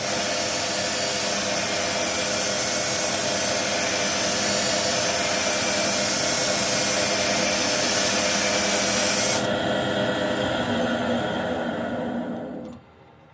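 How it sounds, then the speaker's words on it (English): A lathe spins a turned birch piece while 400 grit sandpaper rubs against it, a loud steady whooshing hiss over a motor hum that shifts partway through and then winds down at the end. "so it's going to get sanded with 400"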